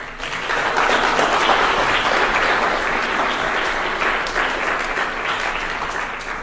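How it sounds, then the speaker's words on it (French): Warm, dense applause from an audience at a live political debate on the future after COP26 at Sciences Po Grenoble, swelling quickly and holding steady, then easing slightly toward the end. "merci pour les applaudissements les amis"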